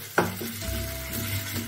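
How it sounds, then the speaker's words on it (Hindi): Masala for a jackfruit curry sizzles softly in a pan as a spoon stirs it, opening with a short sharp scrape and then a quiet continuous hiss under faint background music. "अब इसे हम चलाते हुए अच्छी तरह से भून लेते हैं।"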